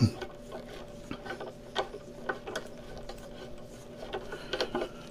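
A toggle bolt anchor turned into drywall gives faint, irregular clicking and ratcheting ticks over a low steady background, close but quiet.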